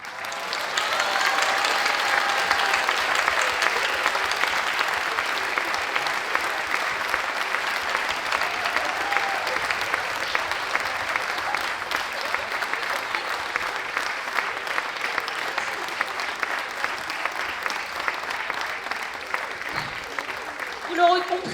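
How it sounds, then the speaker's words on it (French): An audience applauds the choir's departing third-year students with steady, dense clapping that lasts around twenty seconds and fades slightly near the end. "On les applaudit. Bravo à eux."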